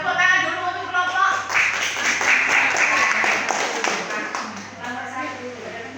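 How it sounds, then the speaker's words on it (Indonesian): A classroom group claps together for a presenting group, a dense steady patter of hands from many students filling the room, with voices mixed in underneath. "Tepuk tangan dulu untuk kelompok."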